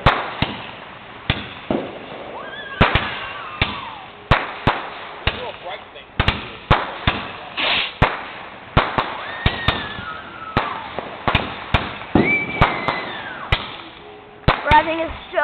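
Mortar fireworks bursting at a Fourth of July backyard display, a series of sharp loud booms and crackles spaced irregularly over the whole stretch, with whistling rises between some blasts and people's voices faintly in the background.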